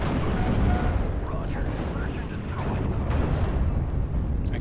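Booming tank cannon fire and rumbling battle noise from the WWII strategy game Steel Division: Normandy 44, loud and continuous with no clear separate shots.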